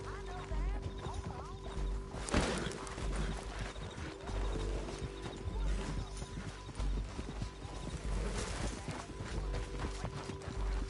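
Horse hooves clip-clop steadily in a PS4 video game, with a horse whinnying over a busy backdrop of game sounds and people talking throughout.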